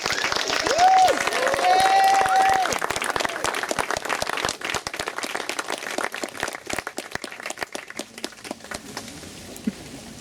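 Applause from an outdoor crowd at the unveiling of the Nelson Mandela Memorial Park in Princes Park, greeting Dr. Mandela and Tukwini Mandela. Steady dense clapping fills the whole stretch and slowly thins near the end, with a few voices briefly heard early on.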